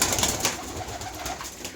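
Tumbler pigeons in a coop give soft, repeated low coos close by, with faint rustling and no other voices.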